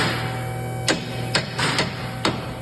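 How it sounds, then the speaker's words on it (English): A hammer taps a lower front control arm into place on a 2013–2020 Subaru BRZ, giving four or five light, sharp knocks over a steady background hum. "I should be able to just slip it up in and do a little tappy tap."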